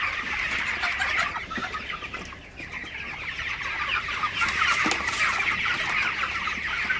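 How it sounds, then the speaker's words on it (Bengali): Flock of 25-day-old broiler chickens, some sick with fever, clucking and squawking continuously as they are chased and scatter across a poultry shed, steady dense chatter throughout with a brief lull midway. "তো দেখুন তাড়াই দিলে মুরগিগুলো ছড়াই যায়।"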